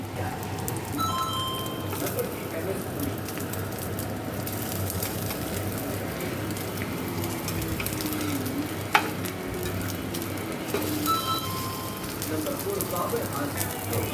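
Eggs fry in hot oil inside onion rings, giving a steady, close sizzle and crackle that runs throughout, with one brief sharp tap partway through.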